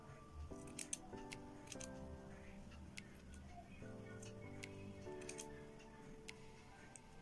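Scissors snipping through saree fabric while trimming its edge, a series of small sharp clicks over a quiet background with faint music.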